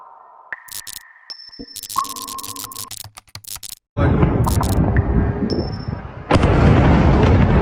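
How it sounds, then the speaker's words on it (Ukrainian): During a drone attack in central Poltava, a string of sharp bangs and clicks is followed by a loud, sustained roar of blast noise that swells again near the end. "Близько 9 години у центрі Полтави пролунало з півдесятка вибухів."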